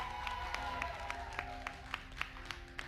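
Studio audience applauding the Roblox Creator Showdown champions, a steady patter of clapping with sharper individual claps standing out, fairly faint and without talk.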